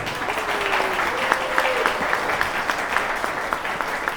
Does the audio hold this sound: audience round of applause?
yes